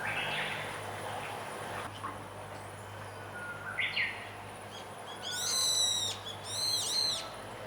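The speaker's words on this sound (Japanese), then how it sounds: "めちゃくちゃウグイスが鳴くんです。" Japanese bush warbler singing outdoors near a hotel in Hakone with a view of Mount Fuji, its clear rising whistled phrases ringing out twice in the latter half over a steady background hum.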